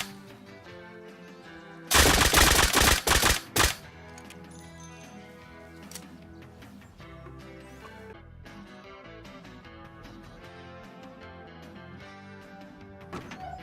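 Rapid bursts of nail gun fire in the survival game Rust, a loud dense volley of shots over about two seconds followed by a few separate single shots, then quieter background game sounds.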